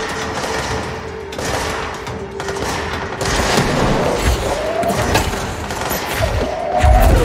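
Scattered gunshots and thumping booms from the video game Control crackle through a steady background of game ambience, with a few sharper bursts toward the end.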